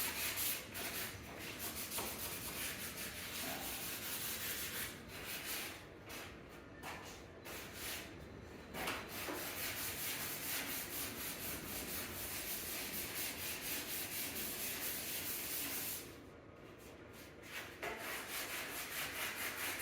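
Sandpaper rubbed by hand across sealed mahogany, a steady close scratchy friction running almost continuously, with a few brief pauses between strokes.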